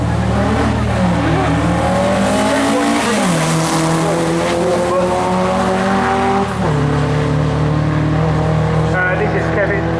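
A Volvo Amazon, owned since 1978, roars loud and close while sprinting at the Brighton Speed Trials, its engine note climbing through sharp gear changes, with a voice talking over it.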